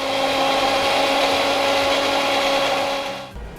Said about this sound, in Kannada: ಇಷ್ಟನ್ನು ಈಗ ನಾನು ಕರೆಕ್ಟ್ ಗ್ರೈಂಡ್ ಆಗಬೇಕು.